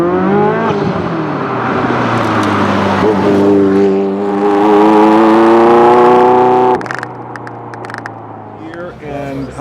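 A Ferrari F40 engine revs loudly up close, the pitch climbing and holding before dropping away abruptly, with a few sharp noises afterward.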